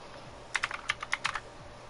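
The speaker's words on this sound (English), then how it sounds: "So excuse the keyboard in the background." Computer keyboard typing in the background during a racing game session at Monza: a quick burst of about ten faint, crisp key clicks in an irregular rhythm, with no talking.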